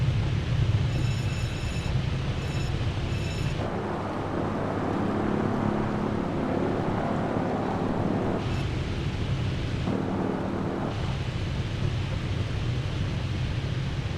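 A PZL Wilga aircraft engine at full power in MS Flight Simulator 2024 roars as a loud, steady broadband rush, with brief changes in tone partway through.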